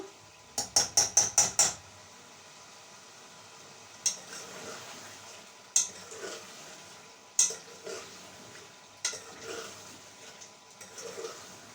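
Meat and potatoes stirred and fried in a pot, with a quick series of sharp metallic clanks at the start, then spaced scraping strikes over a low, soft sizzle, close and fairly quiet.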